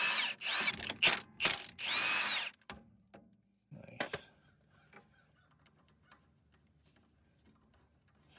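A power tool driving an 8 mm star bit whirs in several loud, close bursts while loosening bolts on a Porsche 914 Type 4 VW engine, then falls quiet apart from faint clicks and handling noises.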